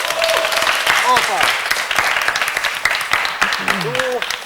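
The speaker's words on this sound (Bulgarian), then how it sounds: "аплодисменти за него" A television singing-competition studio audience applauds singer Lazar Valchev on Music Idol, loud sustained clapping with voices speaking over it throughout.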